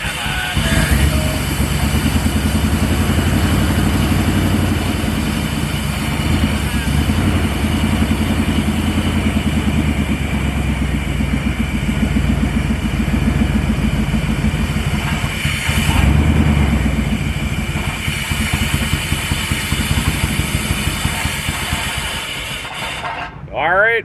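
Salvaged bank write-off motorcycle, revived with brake cleaner, idling steadily and loudly close by for the whole stretch with a rough mechanical drone, a brief blip partway through and voices talking over it.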